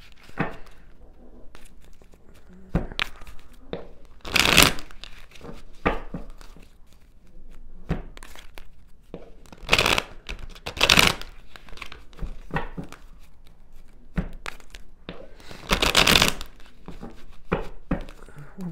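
Tarot cards being shuffled by hand during a reading, with repeated short crisp riffling bursts and soft crinkly rustles spread across the stretch, fairly close and moderately loud, no talking.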